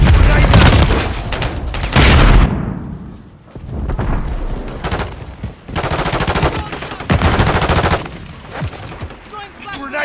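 Automatic weapon fire in Call of Duty: Modern Warfare III, the BAL-27 rifle, rattling in loud bursts with pauses between them, a close combat battle soundscape under shouted voices.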